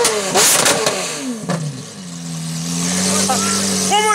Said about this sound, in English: Do it for the vlog, rev it!